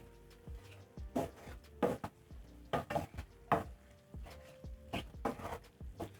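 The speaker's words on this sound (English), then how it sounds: "Stir in the carrots." Thinly sliced carrots stirred into a pot of cooking tomatoes for curried sausages, with a series of scraping, clattering strokes in a steady rhythm close by.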